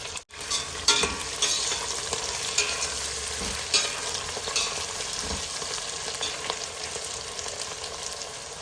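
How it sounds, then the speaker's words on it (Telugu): Onions and green chillies sizzle and fry in hot oil in a pan, with a steady broadband crackle and a few stirring scrapes, close and continuous with no talking. "వేగనిద్దాం ఉల్లిపాయలు వేగుతున్నాయి కదా మంచిగా"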